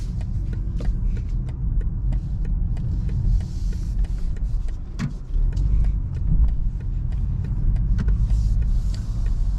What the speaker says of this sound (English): you can definitely tell the engine noise on this video